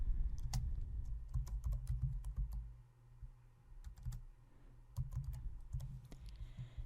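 Keys clatter on a computer keyboard in quick, uneven bursts as a team name is entered, with a brief lull midway before the soft clicking resumes close by.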